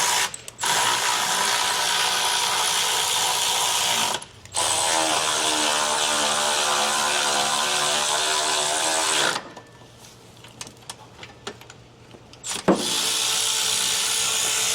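Two electric ratchets whir together in steady, loud bursts, with short pauses between runs and a quieter clattering stretch near the end, while working on a Honda's power steering through the wheel well.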